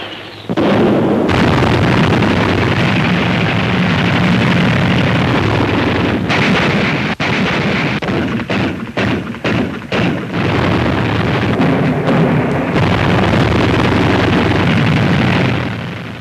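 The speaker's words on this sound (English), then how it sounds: "bombs and flak" Bombs and anti-aircraft flak exploding during a Pacific War sea battle between ships and planes, a loud dense barrage of booms and bursts with sharp individual blasts punctuating the roar.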